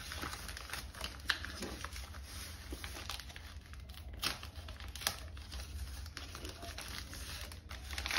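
Plastic sticker packets from a scrapbooking advent calendar are torn and opened up close, giving a continuous run of crinkling with sharp clicks and snaps, and no talking.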